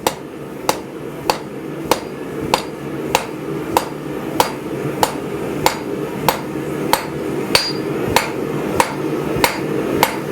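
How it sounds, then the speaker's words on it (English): A blacksmith hammers hot steel over the far edge of an anvil with the round die of the hammer, tapering a leaf for a floral coat rack. Loud, ringing strikes land in a steady rhythm about every 0.6 seconds, with no talking. "Over the far edge of the anvil, half on, half off with a round die of the hammer."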